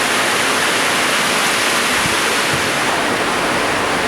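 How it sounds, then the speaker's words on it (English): Heavy Florida rain drums on a 2007 Forest River Flagstaff 823 travel trailer, a loud, dense, steady wash of noise with no pauses. "It's raining, so it's a little noisy."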